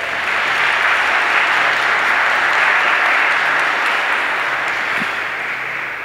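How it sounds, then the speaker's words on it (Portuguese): A congregation at a religious gathering gives a sustained round of applause, a loud, even wash of many hands clapping that holds steady throughout. "A ele uma salva de palmas."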